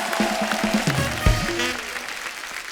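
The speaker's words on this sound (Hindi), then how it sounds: "जोरदार तालियां।" A studio audience claps for a comedy talk show, a dense, steady burst of applause with some cheering, with a host's voice briefly heard over it.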